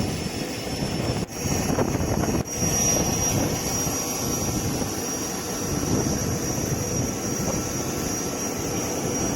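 A private airplane's engine roars steadily and loudly at an airport in Banda Aceh, a continuous broadband drone with a high whine on top, close by and without any voices.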